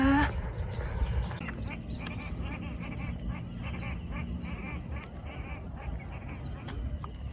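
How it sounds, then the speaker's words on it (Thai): Ducks quack intermittently at a distance over a busy outdoor background of rustling and low noise. "เสียงนกเป็ดน้ำ"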